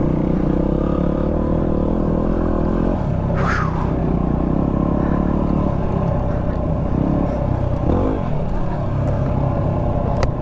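A Yamaha WR250R dirt bike engine pulls under steady throttle on a winter single-track trail, a loud, close, continuous droning rumble that shifts pitch as revs rise and fall, with brief sharp rasps midway and near the end.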